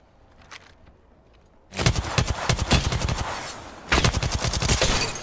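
Rapid bursts of automatic gunfire from the video game Apex Legends, starting abruptly after a quiet opening, loud and close, with a brief pause before another sustained burst.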